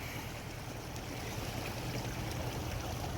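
Water flows steadily downstream from the Keramet hot springs near Lake İznik, a constant close rushing wash with no breaks.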